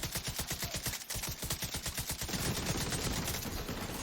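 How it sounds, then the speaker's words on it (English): Rapid automatic turret fire in The Division 2, a steady burst of evenly spaced shots for about two seconds, then melting into a denser, rougher wash of gunfire and noise, loud and close with no talking. "his turret, when he died, his turret just kind of started shooting"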